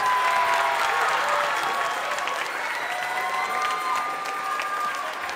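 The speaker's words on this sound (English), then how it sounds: "give him a nice big round of applause" A crowd applauds steadily at a Music in Our Schools concert hosted by Fort Pierce Central High School; the dense clapping stays loud and unbroken throughout, thinning only slightly toward the end, with faint voices underneath.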